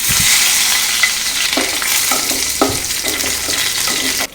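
Curry leaves dropped into hot oil in a kadai just after the mustard seeds have popped, giving a loud, steady sizzle and crackle with a few sharper spits and scrapes, close by and with no voices.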